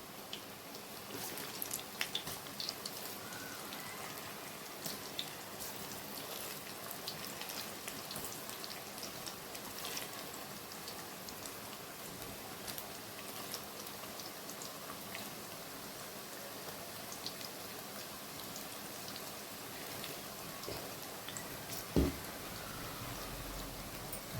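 Sweet corn pakoda frying in hot oil, a steady dense crackle and sizzle holding evenly throughout with no voices.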